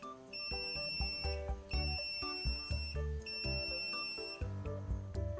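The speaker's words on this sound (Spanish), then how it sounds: "Esta es la prueba de continuidad y como pueden ver y escuchar, la respuesta es rápida y el buzzer suena con buena potencia." Continuity-test buzzer of a KAIWEETS clamp meter, sounding in loud, steady tones that stop and restart several times in quick succession, heard close with no talk.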